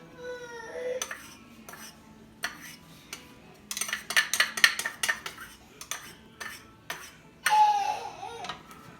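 A spoon scrapes and clinks against a pan full of sweet and sour sauce with brown sugar, making short irregular metallic scrapes and taps close up, with a voice briefly sounding in between.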